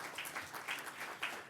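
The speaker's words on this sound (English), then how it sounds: "I think she deserves a round of applause." Faint audience applause at an arts and business awards ceremony, scattered, uneven clapping heard at a low level, with no one speaking over it.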